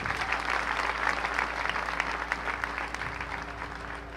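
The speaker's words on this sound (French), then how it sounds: "Bah, bon Dieu, gros applaudissement là." Loud, sustained applause from a congregation at a church celebration marking a sixth anniversary, dense clapping filling the whole stretch and easing slightly toward the end.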